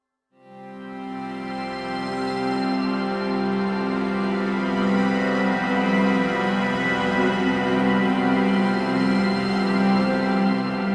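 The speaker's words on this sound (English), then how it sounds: "this gong drone, and it sounds like this." A sustained gong drone built from reversed cymbals swells in over the first second, then holds as a dense, shimmering wash of metallic overtones with a steady low hum, loud and unbroken to the end.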